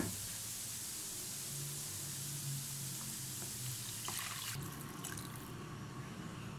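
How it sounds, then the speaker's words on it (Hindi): About five cups of water poured into a pot of sautéed mixed vegetables for soup, a soft, steady rushing hiss heard faintly and alone, changing slightly toward the end. "अब मैं तकरीबन 5 कप के करीब इनके अंदर पानी ऐड करूँगी"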